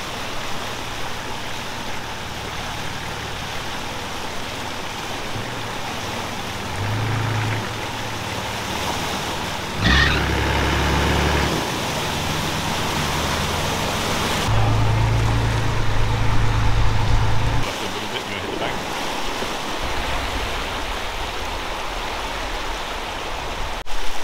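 A 4WD vehicle drives up a creek along the Old Telegraph Track, with a continuous rushing splash of water and engine rumble, loud and close, swelling and dipping as the wheels push through deeper spots.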